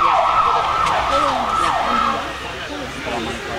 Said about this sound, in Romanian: Să dea colegul cu giroparul să vedeți ce tare urlă mașinuța noastră